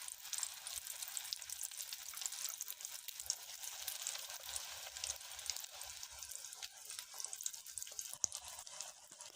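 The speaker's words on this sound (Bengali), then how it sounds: "অল্প তেল দিয়ে ভালোভাবে ভেজে নেব।" Paneer balls dipped in egg and coated in biscuit crumbs fry in a little oil, giving a faint, steady crackle and spit that runs evenly throughout with no one speaking.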